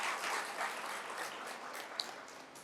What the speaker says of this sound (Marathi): सर्वप्रथम जोरदार टाळ्या डॉक्टर साहेबांसाठी आणि आयोजकांसाठी.